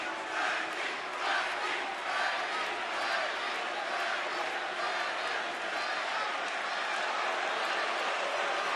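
Dense, steady crowd roar from a wrestling arena at WWE SummerSlam 2018, jeering and booing continuously in the distance, with no distinct voices standing out.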